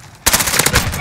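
Rapid automatic gunfire in Call of Duty: Modern Warfare during a team deathmatch, a loud, dense burst that starts suddenly and continues without pause.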